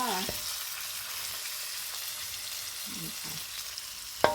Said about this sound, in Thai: ผัดพริกนะคะปานีนนะคะ ใส่ใบกะเพรา